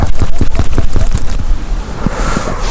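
Loud gusty wind buffets the microphone throughout, a rough low rumble with bursts of noise and a brief lull near the end.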